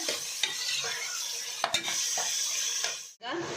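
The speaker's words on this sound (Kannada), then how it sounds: "ಈಗ ಅದನ್ನು ಸೇರಿಸ್ತಾ ಇದ್ದೀನಿ ಚೆನ್ನಾಗಿ ಈರುಳ್ಳಿ ಬ್ರೌನ್ ಕಲರ್ ಆಗಬೇಕು ಅಲ್ಲಿ ತನಕ ಫ್ರೈ ಮಾಡ್ಕೊಳ್ಳೋಣ" Sliced onions fry and sizzle in a pan for mushroom biryani, with a steady hiss broken by several clinks and scrapes as a spoon stirs them, close by and with no talking.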